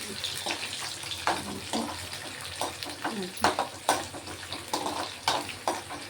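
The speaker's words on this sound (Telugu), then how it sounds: "పచ్చిమిరపకాయ పేలుతున్నాయి" Green chillies spluttering and popping in hot oil in a home kitchen while making tomato chutney, a crackling, sizzling texture with irregular sharp bursts scattered throughout, fairly close and moderately loud.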